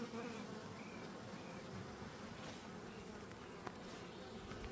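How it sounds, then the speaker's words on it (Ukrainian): Steady, dense buzzing of many calm honey bees close by at an old-style apiary in Ukraine, a continuous droning hum with no voices and only a faint click partway through. "що не обеспокоєні ці бджоли."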